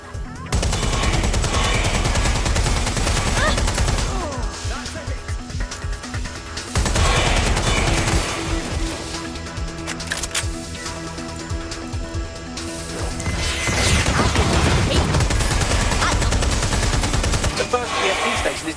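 Sustained gunfire in the video game Watch Dogs: Legion during an EMP station fight, dense bursts of automatic fire layered with game music and effects, loud and continuous throughout.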